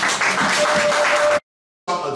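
A church congregation claps and applauds together in a steady, dense burst that cuts off abruptly, then the clapping resumes briefly.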